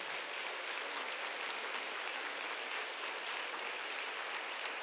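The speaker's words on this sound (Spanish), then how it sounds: "¿Cuánto le da un aplauso a ese Dios tan grande?" A church congregation claps during a sermon, producing a faint, distant, even wash of applause that holds steady without pauses or talk.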